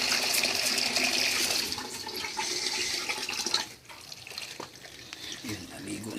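Water gushes steadily into a swimming pool, a continuous close rushing and splashing that is loudest at first and then eases slightly, with no talk over it.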